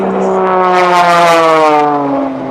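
Propeller aerobatic airplane engine during a maneuver as airspeed bleeds off, a loud sustained drone with steady harmonic tones that slowly fall in pitch, close and continuous before easing slightly at the end.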